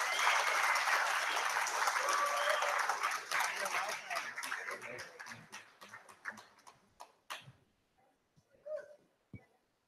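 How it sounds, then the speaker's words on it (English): Applause from an evening conference audience in Laguna Beach starts full and sustained, then thins into scattered individual claps that die out one by one. "let's give a big round of applause for Big Fi"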